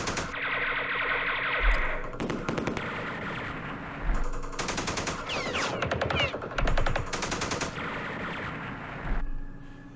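Units in Campaign Series Vietnam, during the Battle of Hue, fire in several separate bursts of machine-gun and rifle fire with loud, distorted reports and echoing gaps between volleys.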